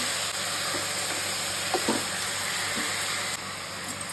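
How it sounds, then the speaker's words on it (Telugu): Vegetables and green peas go into a pan of frying onions for Karnataka-style vegetable sagu and get stirred: a constant close sizzle with a few brief scraping knocks and no talk. "ఆనియన్ ఇంత ఫ్రై అయింది. ఇప్పుడు తరకారీ వేసుకొనేస్తాము."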